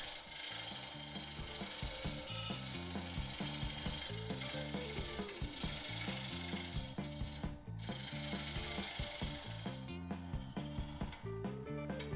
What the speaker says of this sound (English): Now I'm switching to the large finisher, and I'll clean up the bottom with the mini finisher.